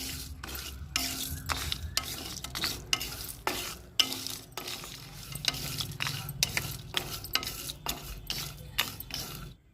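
Cinnamon pieces and cardamom being lightly dry-roasted in a pan for a homemade immunity kadha, heard as rhythmic, repeated spatula scrapes and stirring strokes against the metal, close and fairly loud, with a soft roasting hiss underneath.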